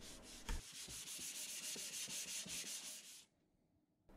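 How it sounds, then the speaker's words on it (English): Rhythmic sanding strokes rasp across a handmade wooden keepsake box, about eight close, even back-and-forth rubs, then stopping abruptly into near silence. "One more quick sanding, and then it will be ready for a top coat."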